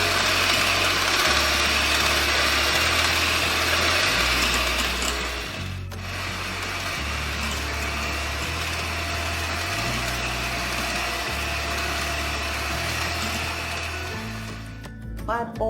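An electric mixer whirs through wet and dry chocolate cupcake batter, a loud continuous motor hum whose pitch steps up and down as the speed changes, with a short dip midway and a rattle near the end.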